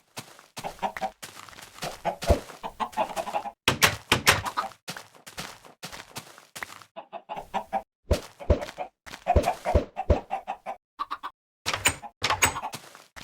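Chickens in the video game Minecraft cluck over and over in short, choppy bursts with brief gaps between them, mixed with occasional soft thuds and no talking.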